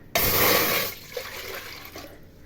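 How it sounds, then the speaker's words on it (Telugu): A sudden gush of water pours from a bowl for about a second, then trails off into a few splashes and drips. "ఇదిగో వాటర్ వేస్తాను అదే గిన్నెతో"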